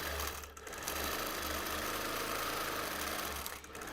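A domestic sewing machine runs steadily while free-motion quilting a flame pattern on a T-shirt quilt, with a continuous mechanical hum, a low throbbing pulse, and brief dips in speed.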